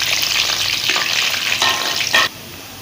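Chickpea koftas frying in oil on low heat make a loud, continuous close-up sizzle with faint stirring, and the hiss drops off abruptly near the end.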